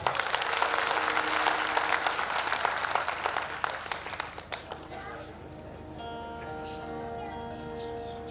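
An audience at a Gujarati dayro folk performance claps in a dense, loud burst for about four seconds that thins out and stops, followed by voices and tonal sound.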